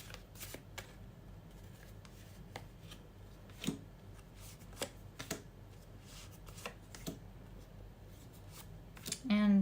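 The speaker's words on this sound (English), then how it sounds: "Let's pull out some cards and see if they will actually take steps to reconnect." Tarot cards are shuffled and drawn by hand, close and fairly quiet, in a string of soft riffling bursts and irregular flicks and taps spread across the clip.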